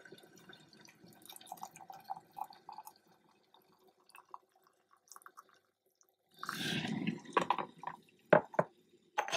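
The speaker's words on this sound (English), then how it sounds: "And then in we go with the water." Freshly boiled water poured into a small teapot for loose leaf tea, a brief gurgling pour after some quiet kitchen clinks and taps, close and clear.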